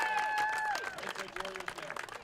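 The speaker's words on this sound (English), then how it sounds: "Fantastic applause and support from the parents of both fans." Parents from both sides applaud at the final whistle of a 2015 Hudson Raiders versus Rice Lake boys soccer match, a dense clapping wash under a fading tonal sound and an overlapping voice.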